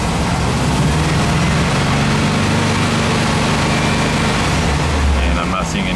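An air-cooled Volkswagen engine with its headlights switched on runs steadily and loud nearby, a continuous low mechanical drone that rises slightly in pitch toward the end, while a person speaks faintly over it.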